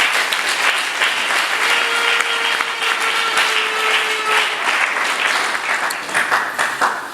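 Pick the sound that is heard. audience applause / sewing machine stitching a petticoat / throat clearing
audience applause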